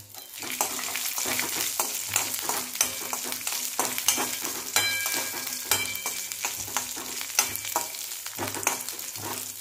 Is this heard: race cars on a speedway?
no